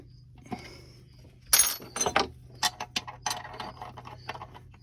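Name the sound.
wrench loosening a nut on a Torqueflite transmission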